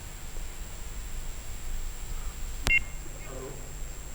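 A telephone line sounds a single sharp beep as a caller connects to a Hindi TV call-in program, standing out briefly over a faint steady hum, with soft faint voice-like sounds just after.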